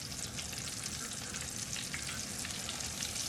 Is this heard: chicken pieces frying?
yes